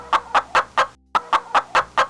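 A human voice imitates a clucking hen, a rhythmic series of loud, close clucks with a brief pause midway.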